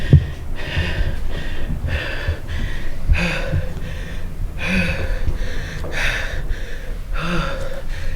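Heavy, rhythmic breathing from a person during an exercise drill, with deep, hissing inhales and exhales repeating steadily, close and loud, with no talking.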